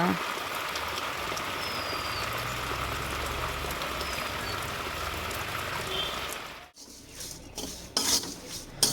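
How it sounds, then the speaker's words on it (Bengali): Rain falls steadily on a tin-roofed house, a dense, continuous patter that drops away near the end, followed by scattered kitchen clatter. "বৃষ্টি পড়েই চলেছে, বৃষ্টি থামার আর নাম নেই।"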